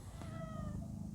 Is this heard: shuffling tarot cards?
no